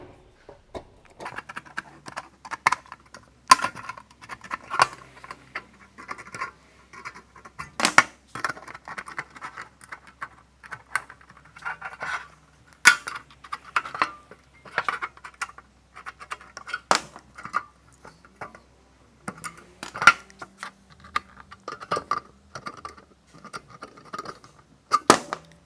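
A metal roofing downpipe is cut up with repeated sharp snips and crunching clicks in an irregular rhythm, close and fairly quiet, with short pauses between cuts.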